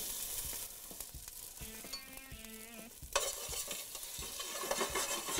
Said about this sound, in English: We'll add the pancetta to the pan.